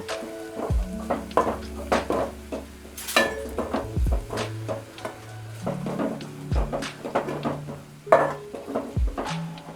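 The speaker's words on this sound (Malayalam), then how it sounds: "കുറച്ച് മഞ്ഞൾപ്പൊടിയും കൂടി ഇട്ടിട്ടുണ്ട്. അപ്പോൾ അത് നമുക്കൊന്ന് ഇളക്കി കൊടുക്കാം." A spoon stirs prawns with turmeric powder in a pan, with close, irregular scraping and metallic clinks against the pan and a faint sizzle underneath.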